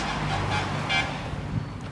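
Road traffic passes beside a roadside eatery, a constant near hum of cars with a brief horn toot midway.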